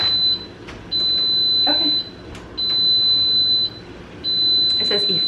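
A pressure cooker showing an error code beeps in a home kitchen during freezer meal prep, four long, steady high tones repeating in a slow, even rhythm, with a brief spoken word in between.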